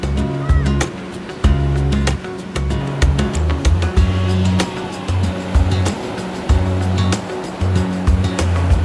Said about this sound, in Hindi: द वेव्स वर काम and gentle, lapping against the shores.